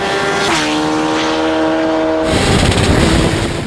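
A Kawasaki Z800 roadster motorcycle engine drones loud and close with a rising then steady harmonic note, then breaks into a rougher, broadband roar in the last second.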